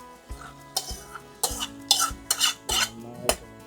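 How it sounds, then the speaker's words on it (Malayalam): A pumpkin snack being stirred in a pan with fried cashews and almonds, about half a dozen separate scraping strokes with light sizzling between them, close by and fairly loud. "ഇനി നമുക്കിത് നന്നായിട്ടൊന്ന് മെല്ലെ ഇളക്കി മിക്സാക്കി കൊടുക്കാം."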